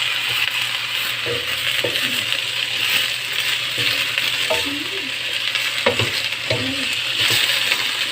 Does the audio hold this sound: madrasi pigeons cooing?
no